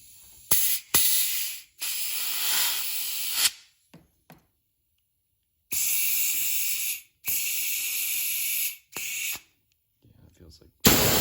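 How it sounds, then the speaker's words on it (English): Compressed air blasts into the hole of a Kawasaki GP1200i personal watercraft carburetor in several bursts of loud, broadband hissing, stopping and starting in short and longer spurts with brief gaps between them. "we're gonna put the air compressor up to right here and blast out that hole"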